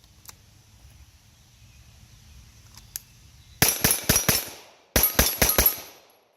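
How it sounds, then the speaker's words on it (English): Honcho pistol firing 124 grain FMJ minor-power loads at steel targets: after a quiet stretch, two quick strings of four sharp, loud shots each, with ringing decays between. "And just going to shoot some steel over here."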